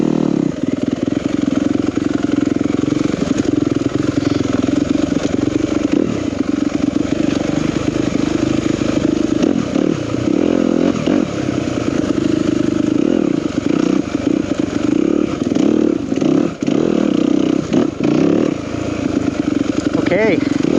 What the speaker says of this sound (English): 2021 Yamaha YZ250FX. Been wanting to try this bike for a while.